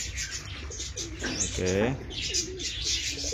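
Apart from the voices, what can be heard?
fantail pigeon cooing during release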